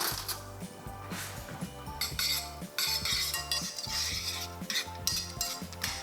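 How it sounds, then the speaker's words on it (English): A spoon stirs caramel in a metal pan, scraping and clinking against the sides in rapid repeated strokes, close and fairly loud throughout with no talking. "Give that a stir."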